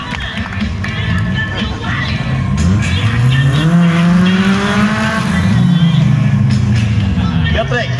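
Stunt cars at a live stuntman show roar and rev with squealing tires and sweeping engine pitch, while an announcer talks excitedly over the noise and a crowd murmurs in the background.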